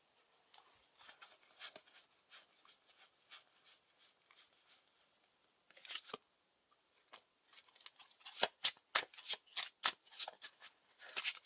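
A deck of cards for a cooperative card game being shuffled by hand, quiet riffling and snapping bursts close by, growing louder and faster toward the end, with no talking.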